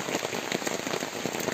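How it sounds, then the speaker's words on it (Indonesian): Heavy rain pours steadily onto a surface, a dense, continuous patter close by with no voices. "Hujan teman-teman,"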